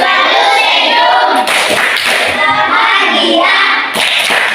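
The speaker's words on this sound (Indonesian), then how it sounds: "coba tepuk bahagia dulu" A classroom of children performs a rhythmic Indonesian happy clap, loud close hand claps in patterned bursts mixed with chanting voices.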